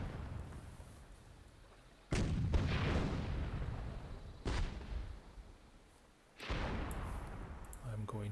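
Repeated cannon blasts from a super cannon in the WWII-themed Myth II: Soulblighter tournament match, three loud booming shots spaced a couple of seconds apart, each with a long rumbling tail, under faint background ambience.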